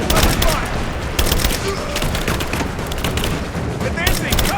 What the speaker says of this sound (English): Give me suppressive fire!